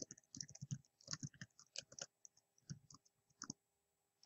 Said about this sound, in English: And then I'm going to click on download.